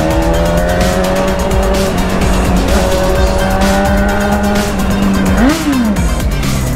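A carbureted Honda Hornet 600 motorcycle roars loudly and close for the whole stretch, its engine note climbing steadily as it accelerates with a brief sharp rev spike near the end.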